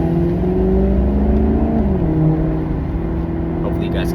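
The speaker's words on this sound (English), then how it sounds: "I love the sound of this engine." A Maserati cruiser's engine hums and drones from inside while driving, a loud steady tone that shifts pitch as it changes gear, with a voice talking over it.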